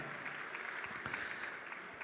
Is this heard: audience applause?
yes